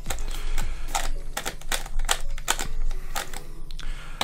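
A Sengso Ivy Cube twisty puzzle clicks repeatedly as its layers are turned, sharp close plastic snaps arriving in quick uneven bursts over a faint background hum.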